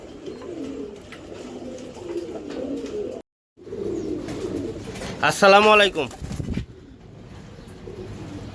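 Birmingham Roller pigeons coo in a short, rising-and-falling burst partway through, with someone talking close by before and after and a steady background murmur.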